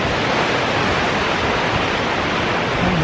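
Cold mountain stream water flowing steadily and loudly in the mountains, a constant broadband rushing wash that fills the whole stretch with no breaks and no voices.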